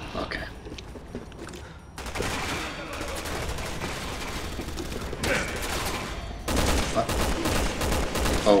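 Rapid gunfire in Resident Evil 6, bursts of automatic shots and heavy blasts crackling through a continuous game soundscape, getting louder toward the end, with players talking over it.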